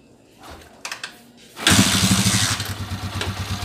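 A Honda TMX motorcycle engine being started: a few faint clicks and cranks, then the engine catches with a burst and settles into a loud, close, rhythmic thumping idle.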